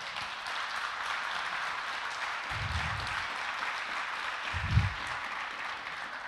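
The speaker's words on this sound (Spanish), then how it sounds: "Lo que pasa es que Rosalvita está atrasada en aplausos." A church congregation applauds during a sermon, a broad steady wash of clapping throughout with a couple of low thumps partway through.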